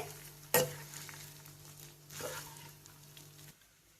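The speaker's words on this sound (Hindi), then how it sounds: "अच्छे से मिक्स कर लेंगे।" A metal utensil scrapes and clanks against a pan, stirring boiled rice into prawn fried rice, while food sizzles faintly underneath, with a steady background hum that cuts off at the end.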